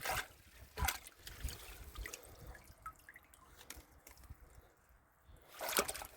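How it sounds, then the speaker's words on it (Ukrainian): Grape seedlings swished and dunked in a barrel of water outdoors, giving irregular splashes and drips at close range, with a louder slosh near the start and another toward the end, without talk. "ось в бочку з водою ці саджанці я трошки їх проталапаю"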